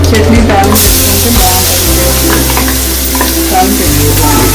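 Mustard seeds, urad dal and cumin frying in hot oil for a coconut chutney tempering, crackling and sizzling loudly and steadily up close, with occasional stirring scrapes and no speech.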